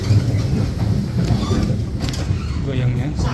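A steady, loud rumbling rattle of a moving train heard from between carriages, on the line from Bremen to Amsterdam via Hengelo, with low clattering and rushing noise throughout and no pauses.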